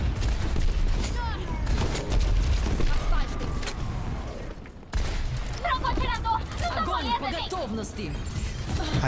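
Rapid bursts of Overwatch gunfire crackle over busy game effects while playing Torbjorn and Pharah on PC, with a person talking excitedly throughout.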